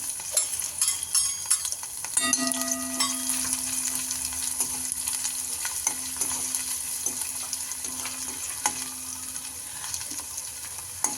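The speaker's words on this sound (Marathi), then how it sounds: "सगळ्यात अगोदर लसूण हिरवी मिरची आणि ही आपण कांद्याची पाट टाकायची आहे फोडणीमध्ये आणि तेल गरम झालेलं आहे" Hot oil sizzles steadily and loudly as garlic, green chillies and spring onions fry, with occasional stirring scrapes and light clinks over the continuous frying hiss.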